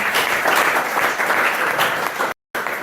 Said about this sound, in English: So big hand clap for the old man.